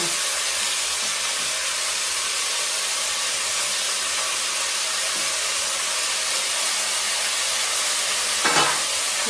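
Oil sizzles loudly and continuously in a pan in a home kitchen where palak curd curry is being made, a dense unbroken frying hiss with one brief clatter near the end.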